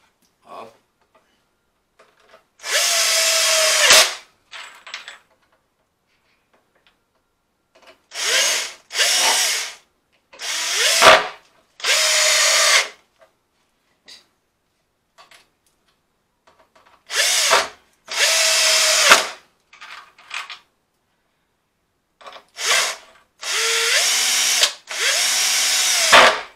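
A power drill drives screws into wooden planks for a vintage-style wall clock made from reclaimed materials, in about nine short, loud, close whirring bursts separated by quiet pauses.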